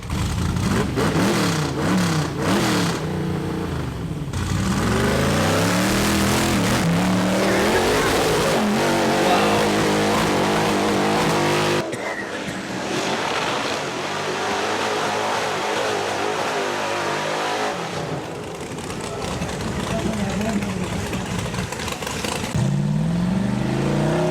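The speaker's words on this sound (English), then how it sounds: "this is actually a bust and knuckle buggy" A Bust and Knuckle race buggy engine revs hard and steadily, its loud, rising and falling roar near and constant, with a sharp cut around the midpoint and faint speech-like sounds mixed into the noise.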